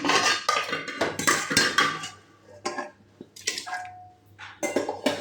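Thick chunks of potato go into a pot of khichuri, giving several sharp clinks and knocks of metal pot and utensil, with short bright clatters and scraping between them and no one talking.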